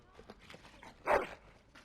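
A dog in the video game Dragon Age: Origins gives a single short bark partway through, set against quiet background sounds and faint movement.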